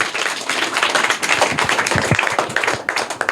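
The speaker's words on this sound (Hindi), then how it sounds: "जोरदार तालियां इनके लिए।" Lively clapping from a school quiz audience of private-school children in Bihar, a dense burst of many hands rattling continuously and fairly loud for a few seconds, with no talk over it.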